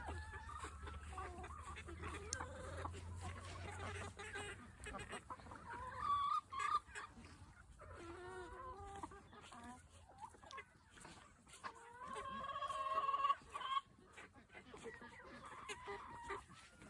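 Backyard chickens cluck and squawk close by while being fed, irregular bursts of clucking scattered across a quiet background, with a person talking softly in between.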